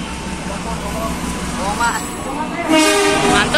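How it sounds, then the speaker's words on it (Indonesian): A train runs through on track 4 at Jatinegara station without stopping, with a rumbling drone and a brief horn toot, while a voice calls out over the station loudspeaker. "dari arah barat kereta api melintas langsung jalur 4"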